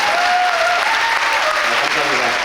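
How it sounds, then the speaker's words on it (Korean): A theatre audience claps steadily and loudly during the curtain call of the closing performance of the Crash Landing on You musical, a dense unbroken wash of applause with a voice speaking over it. "박수 더 치세요"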